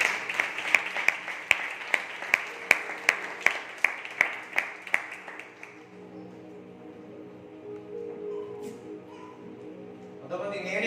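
Congregation at a Sunday church service clapping in a steady rhythmic beat for about six seconds, then fading into low room murmur and faint voices.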